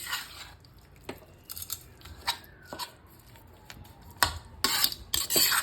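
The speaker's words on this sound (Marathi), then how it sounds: "आता आपण हे सतत मंद आचेवर ढवळत राहणार आहोत" A chana dal and jaggery filling being stirred in a pan over low heat gives intermittent scraping and rubbing strokes of a utensil against the pan, soft and close, growing more frequent toward the end, with no speech.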